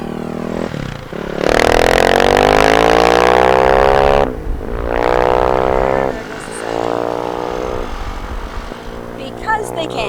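A motorcycle engine revs loudly nearby, rising in pitch as it accelerates, then drops back and fades as it passes, with traffic noise lingering afterward.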